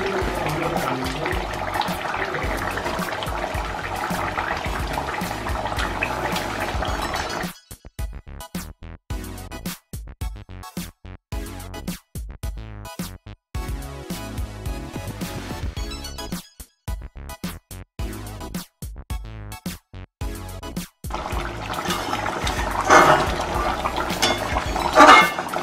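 Rohu fish curry bubbles in a pot on the stove as fish pieces are added, a watery simmering and splashing that breaks into choppy bursts midway before a steady boil returns.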